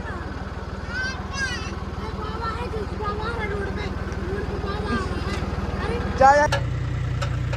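A tractor engine runs nearby with a steady, throbbing low rumble that holds for the whole stretch and shifts pitch near the end, while people talk over it.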